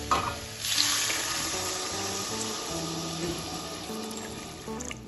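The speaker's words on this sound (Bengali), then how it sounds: "এখন আমি এর মধ্যে দিয়ে দেবো গরম জল" Hot water hits a pan of sizzling spiced vegetables during cooking of a kochu (taro) curry, a sudden loud hiss settling into steady bubbling sizzle, close up with no talk.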